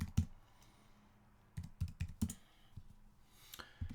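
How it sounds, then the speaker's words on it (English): A burst of keystrokes as a password is typed on a computer keyboard, a few quick clicks, a pause, then another cluster of close, light taps, with no talking. "So you're going to type in your password."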